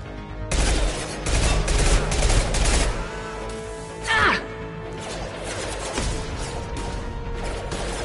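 Gunfire from the video game Mass Effect 2: loud, dense bursts of shots fill the opening seconds, then a sharp whooshing burst rings out before steadier weapon noise and game ambience carry on.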